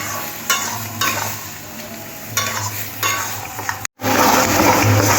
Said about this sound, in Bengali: হলুদ গুঁড়োটাও ডালের সাথে মিশিয়ে নিতে হবে